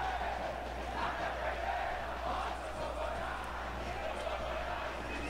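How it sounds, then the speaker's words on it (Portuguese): A large stadium crowd in a FIFA football video game roars and chants steadily at a distance, a dense continuous wall of voices with a low hum underneath. "A torcida grita alto"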